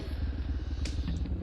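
A motorcycle rides along a road on the island of Sumba, its engine giving a steady low throbbing rumble close by, with a few faint clatters over the drone.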